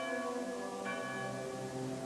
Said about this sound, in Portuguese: as badaladas do templo